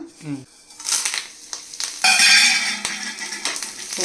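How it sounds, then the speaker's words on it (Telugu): Loud sizzling crackle bursts out as chana dal, mustard seeds, cumin, curry leaves and dried red chilli hit hot oil, settling into a steady fry with a few scrapes and clinks of a utensil. "తాలింపు వేసుకుంటున్నాను"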